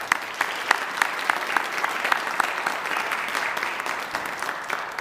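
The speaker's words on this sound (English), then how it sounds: "give them a round of applause" Applause from the crowd at an art lecture, thanking the exhibition's organizers: many hands clapping in a dense, even patter that holds steady at moderate loudness and then starts to thin toward the end.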